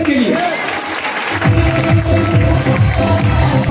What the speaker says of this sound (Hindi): एक बार ताली बज सकती है इसके लिए